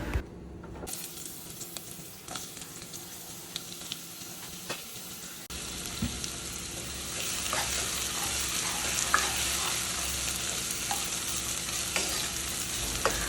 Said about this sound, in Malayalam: വലിയ ഉള്ളി ഒന്ന് ഗോൾഡൻ കളറാകുന്നത് വരെ നമുക്കൊന്ന് ഇത് വഴറ്റി കൊടുക്കാം